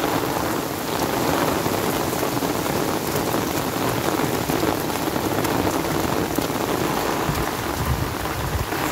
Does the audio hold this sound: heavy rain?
yes